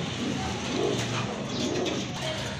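Farm pigeons coo softly at a Bangladeshi pigeon market, with repeated low calls over a constant background hubbub.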